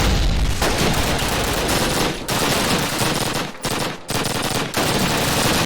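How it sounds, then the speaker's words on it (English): Rapid rifle and machine-gun fire in a Call of Duty World War II battle, with Mosin rifle shots among the barrage, loud and nearly continuous with a few brief gaps. "watching your teammates push up as Sergeant Alexei hits all of his Mosin shots"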